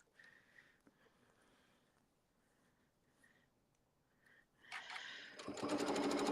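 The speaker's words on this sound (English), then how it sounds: "So I'm just sewing that so it's sewing right along that edge." A sewing machine top-stitches along a fabric edge, starting after a quiet stretch with a few faint taps and then running as a loud, close, rapid mechanical whir to the end.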